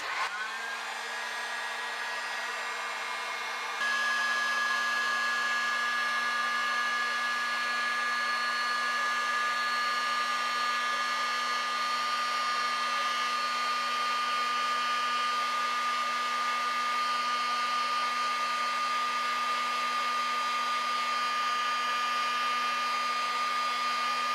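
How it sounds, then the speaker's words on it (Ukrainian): A steady, loud electric blower hum with a constant whine runs throughout as a construction heat gun shrinks heat-shrink caps onto wine bottles. "використовуючи звичайний будівельний фен, нам залишається тільки запаяти дані термоусадочні ковпачки"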